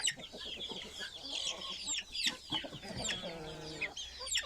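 Chickens cluck steadily and close by, a busy overlapping chorus of short calls with a few louder squawks mixed in.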